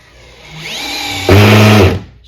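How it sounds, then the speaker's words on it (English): Cordless drill set to speed 2 with the clutch at 15, driving a Phillips screw: a short motor whine that rises, then a louder, strained grinding burst as the screw seats, before stopping abruptly. "I'm going to start with the Phillips. I've got my drill in speed 2 and the clutch is set at 15."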